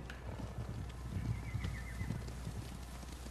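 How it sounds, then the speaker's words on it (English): Horses galloping in the samurai video game Ghost of Tsushima, a rhythmic thud of hooves running under a low ambient rumble, moderately loud and without speech. "Horses, they're coming for us."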